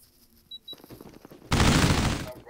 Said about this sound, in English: Oh, the sentry gun did that shit